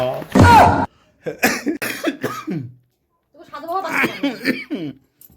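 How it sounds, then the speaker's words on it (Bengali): A person coughs hard once near the start, followed by bursts of laughing and chattering voices close by. "ও কাশি হয়ে গেছে আমার"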